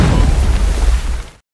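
Deep, loud bomb blast in an animated story, a single sustained roaring boom with rumbling low end that cuts off abruptly after about a second and a half.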